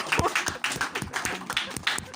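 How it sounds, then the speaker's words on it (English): Small audience applause after a tutor presentation, a brief patter of scattered hand claps, moderately near, with faint voices mixed in. "round of applause, guys"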